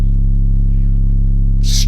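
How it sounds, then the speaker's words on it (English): Heavy 808 bass samples from a pack rumble as a loud, deep sustained tone with a pulsing wobble, filling the whole clip, with a brief bright noise burst near the end. "And of course these 808s I stole from like some kind of"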